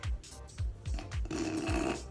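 Several low, raspy Ujjayi throat breaths in an uneven rhythm, close up, followed by a longer hissing exhale with a steady rasp.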